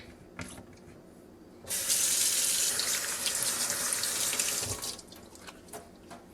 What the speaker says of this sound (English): make sure you wash your hands really well